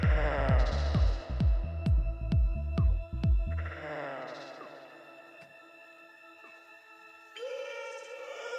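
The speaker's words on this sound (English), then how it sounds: "It's just the same vocal, but with like a pitch down, a lot of delay, a lot of echo." Pitched-down vocal line drenched in heavy delay and echo within an electronic music track, repeating phrases smearing into a long reverberant tail over steady tonal layers and a pulsing low beat that fades out before the mix returns.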